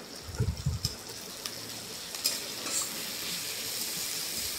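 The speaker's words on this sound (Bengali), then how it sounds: "দিয়ে আমি খুন্তি দিয়ে একটু নেড়ে চেড়ে নিচ্ছি।" Onion with ginger and garlic paste sizzles in a hot pan as a spatula stirs it, a few low scrapes early over a continuous frying hiss with occasional light clinks.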